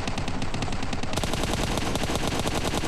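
Rapid automatic gunfire in the mobile shooter PUBG Mobile Lite, a dense burst of quick repeated shots that intensifies midway, loud and continuous without speech.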